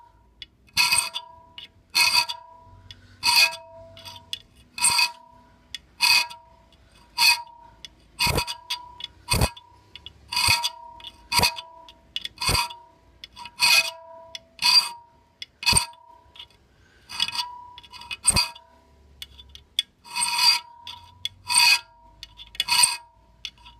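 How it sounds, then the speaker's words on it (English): Hand file rasping across the steel pick of an ice axe in about fourteen firm, evenly spaced strokes, each a bright scraping rasp with brief pauses between, close and clear with no voices. "Notice here that I'm just using just one file."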